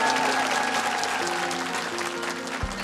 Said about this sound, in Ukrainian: На нашій сцені ваші оплески.